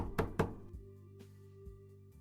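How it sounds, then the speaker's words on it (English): Two sharp knocks at a door in the video game Lobotomy Corporation, close and distinct, followed by a low sustained musical drone. "You and Hot hear a knock at the door."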